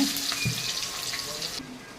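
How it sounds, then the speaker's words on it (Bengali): Oil sizzles softly in a pan as chopped onions fry with cardamom, cinnamon and bay leaves, with a light hissing crackle and a faint clink partway through. "আমার পেঁয়াজটা কিন্তু ভাজা হয়ে গেছে"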